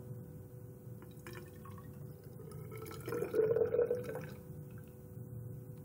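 Water poured from a smaller container into a larger graduated cylinder, a soft splashing trickle swelling briefly in the middle, then tapering off against a quiet room hum.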